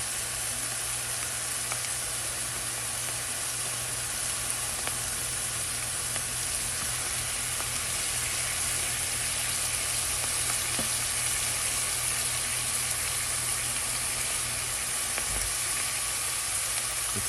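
Lion's mane mushrooms frying in butter in a pan give a steady, close sizzle with a constant bright hiss and occasional soft pops and stirring, unbroken throughout.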